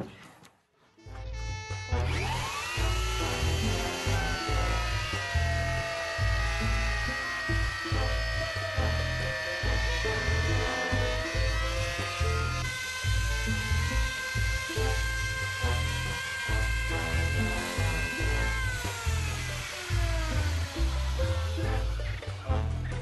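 Power tool cutting halfway through quarter-circle parts for a parabolic solar cooker, a loud continuous whine whose pitch drifts as it bites into the workpiece, running steadily for about twenty seconds.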